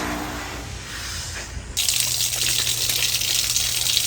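Tap water gushes steadily from a faucet fed through a newly installed four-stage water filter with backwash, starting softer and jumping to a louder, fuller rush partway through, with no voices.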